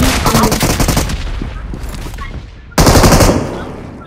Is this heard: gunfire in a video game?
yes